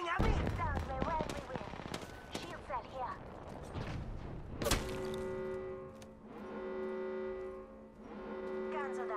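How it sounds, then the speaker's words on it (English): Gunfire in the video game Apex Legends arena mode, with rapid bursts of shots and impacts early on, followed by ringing tonal game effects and music, with a voice speaking. "They're shooting at me?"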